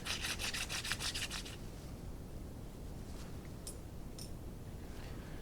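Hand sanding of a metal tool box latch with 1000 grit sandpaper gives rapid rhythmic rubbing strokes for about a second and a half, then softer scattered scraping over a steady background hiss.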